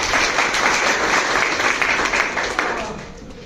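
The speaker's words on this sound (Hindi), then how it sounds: "जोरदार ताली हो जाएगा" Dense audience applause from a crowded hall, many hands clapping at once in a loud, steady wash that holds for a few seconds and eases slightly near the end.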